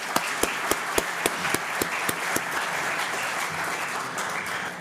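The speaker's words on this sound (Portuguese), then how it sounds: "uma salva de palmas" Audience at an awards ceremony in Minas Gerais claps in steady applause, with a few sharp, regular claps standing out near the microphone at first before blending into a dense, sustained wash of clapping.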